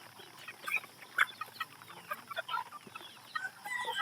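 Chickens, including a blue-legged bird, cluck and chirp in short scattered calls over a quiet farmyard background, with no voices.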